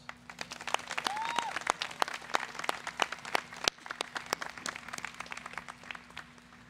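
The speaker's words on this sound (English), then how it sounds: "Please give another round of applause." Steady applause from a large commencement ceremony crowd, many hands clapping densely for several seconds, heard from a moderate distance with no voices on top.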